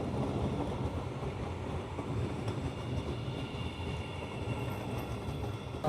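A battery electric test train pulls in on a non-electrified rail line, a steady low rumble of wheels and running gear that holds throughout, with faint hiss and no voices.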